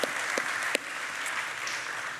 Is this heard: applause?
yes